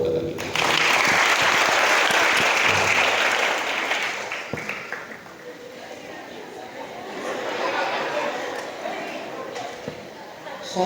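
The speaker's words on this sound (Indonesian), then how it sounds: "Tepuk tangan buat kakak kita." Dense crowd applause at a school parenting and motivation event, loud from the start, then fading and swelling again, with voices and chatter mixed in.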